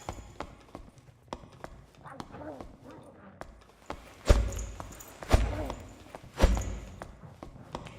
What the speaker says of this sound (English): I heard the pitter-patter of your footsteps